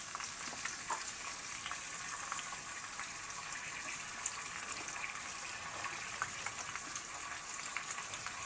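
Sliced potatoes and washed, cut flat beans sizzle in a pan with steady, even crackling and hissing throughout, close and moderately quiet, with no voices.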